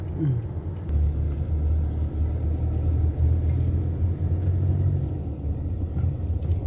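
Steady low engine rumble from a car driving on a road near Somdet district, Kalasin, Thailand, continuous and close with no talk.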